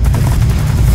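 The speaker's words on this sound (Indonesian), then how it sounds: "yang nembakin senapan mesin ini gunanya untuk mengcover agar suara tembakan sniper lain tidak terdeteksi" Loud, dense burst of rapid machine gun fire in a film, with heavy low rumble, continuous and close, like sustained automatic weapon fire.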